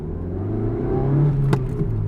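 A 2003 Mazda 323F 1.6 engine revs up from idle, its pitch climbing and holding strong before a sharp click, loud and close with no voices.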